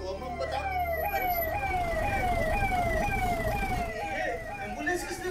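A wailing ambulance siren sweeps up and down repeatedly, loud and close, over a rumbling vehicle engine in a Hindi drama scene.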